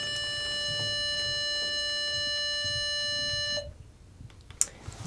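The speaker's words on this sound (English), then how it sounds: "at the start of the tape you're going to hear a beep" A police interview tape recorder sounds a steady, loud electronic tone for about three and a half seconds, then cuts off, leaving quiet room noise with a brief click.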